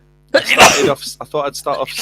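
A single loud, close sneeze bursts out during a casual Pokemon prediction chat, followed right away by someone talking.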